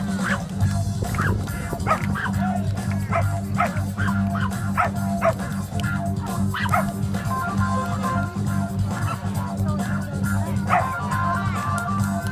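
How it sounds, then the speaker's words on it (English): A dog barks and yips again and again in quick, uneven bursts, close and loud over a constant low hum, with some whimpering between barks. "Dog."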